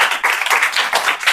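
An audience claps after a village one-act play at a coaching centre, a brief, close burst of rapid, uneven hand claps.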